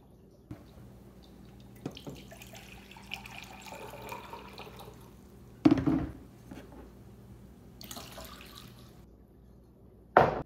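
Hot water poured into a container to dissolve sugar for lemonade, a soft faint trickle and splash in a quiet kitchen with a noisy kettle, punctuated by a few louder clinks and knocks.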